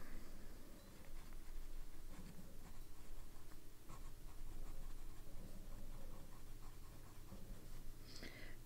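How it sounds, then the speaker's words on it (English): A fountain pen scratches softly across Tomoe River paper, a faint, continuous writing sound with small strokes and pauses, recorded close up in a quiet room. "I just realized I forgot to write it down on our Tomoe River paper."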